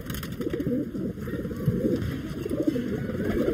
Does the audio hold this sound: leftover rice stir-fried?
no